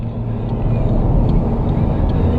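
A 2011 Seat Leon FR with a 170 bhp 2.0 TDI diesel pulls hard in second gear with the throttle flat, a steady loud low engine drone heard from inside the cabin, holding constant through the pull.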